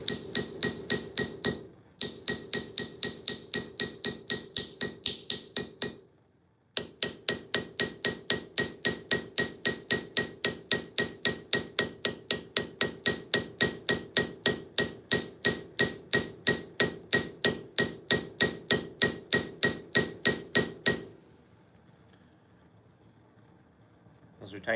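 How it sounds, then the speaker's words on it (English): A hammer tapping brass pins into a knife scale, a long run of rapid, evenly spaced light metallic taps, close and sharp, broken by two short pauses before stopping. "That's because the hammer is now tapping the scale."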